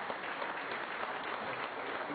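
A crowd at a city's State of the City address in Danbury claps together in a steady patter of many hands, moderately quiet and even throughout, with a voice faintly mixed in.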